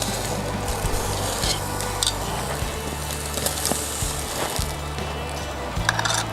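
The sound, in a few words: porterhouse steak searing in pan after flipping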